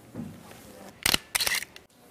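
A camera shutter fires during a still-photo shoot, two sharp bright clicks close together, the second slightly longer, heard up close against a quiet room with no talking.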